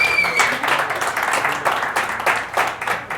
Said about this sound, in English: Can we get like a round of applause for that?